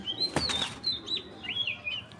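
A racing pigeon bursts into flight with a short, loud flurry of flapping wings, followed by thin, high chirping tones that drift on afterward.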